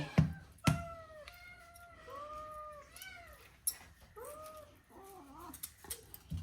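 Pet cats meow repeatedly in a string of short and stretched cries while mackerel is cleaned in a kitchen, mixed with sharp knocks and clatter of food preparation.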